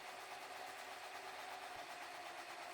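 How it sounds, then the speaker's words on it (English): An embroidery machine stitching the final color of an in-the-hoop stained glass ornament, a steady, faint mechanical whir and rapid needle chatter running evenly throughout with no voices. "Return your hoop to your machine and stitch the final color."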